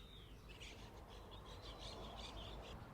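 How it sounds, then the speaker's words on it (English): Parrots in a palm tree squawk and chirp in short bursts over a constant outdoor rumble at a campsite in Spain, their calls coming and going at a moderate distance. "there's some really cool parrots up in that palm tree up there"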